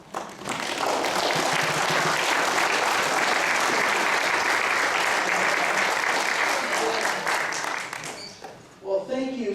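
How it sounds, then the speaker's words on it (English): Attendees at a Minnesota House District 3A candidate forum give themselves a long round of applause, dense and steady clapping filling the room for about eight seconds before dying away into a voice. "give yourselves a round of applause"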